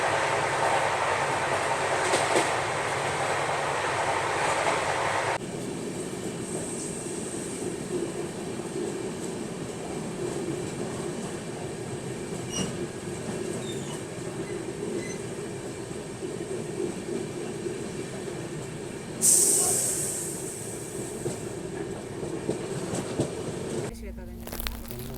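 Bengaluru Rajdhani Express heard from inside a 3rd AC coach: a steady low rolling rumble of wheels on track running throughout, with a brief rising hiss partway through and faint voices in the background.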